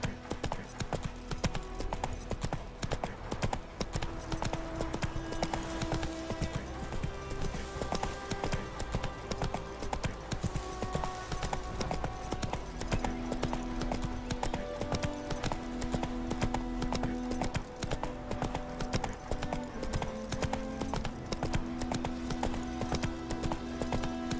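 Roach, a horse in The Witcher 3, gallops in a steady, rapid clip-clop of hooves that runs without a break, set against a constant bed of game music.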